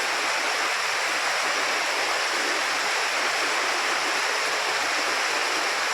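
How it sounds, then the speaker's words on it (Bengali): Heavy rain pours in a steady, dense, loud hiss that stays constant throughout, with no voices over it. "সেই লেভেলে বৃষ্টি হচ্ছে"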